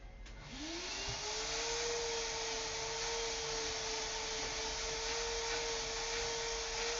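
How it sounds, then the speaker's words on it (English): A household vacuum cleaner runs steadily and loudly after switching on, its motor spinning up in the first second into a constant whine with broad airflow noise and no talk. "Put out the vacuum for me."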